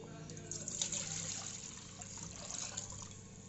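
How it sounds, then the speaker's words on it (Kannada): Water poured into a vessel to make panipuri water, a soft, continuous splashing trickle heard close up at low level. "ಇವಾಗ ಪಾನಿ ಮಾಡೋಕ್ಕಂತ ನೀರು ಹಾಕೋಬೇಕು."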